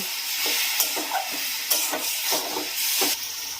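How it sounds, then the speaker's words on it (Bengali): Sugar syrup with cardamom powder is stirred in a wok on the stove for boondi laddu, with a bubbling hiss broken by regular scraping stirring strokes. "এবারে এটা নেড়ে নেড়ে নাড়ু মানে লাড্ডু তৈরির পাকটা তৈরি করব।"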